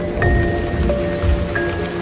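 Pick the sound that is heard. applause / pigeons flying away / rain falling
rain falling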